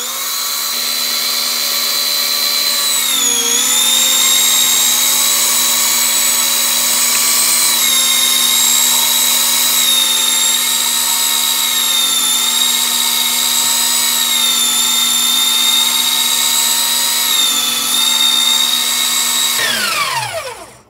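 An electric meat grinder runs through fresh beef chuck, giving a loud, steady motor hum with a bright whine that holds for about twenty seconds before spinning down and stopping.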